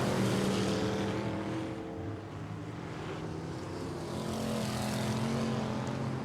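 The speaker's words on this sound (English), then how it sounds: "And Arthurton muscling that car around on 3 wheels." Factory Stock B stock cars racing on Tulsa Speedway, with several engines roaring steadily and droning as they pass, loud and continuous, with no talk.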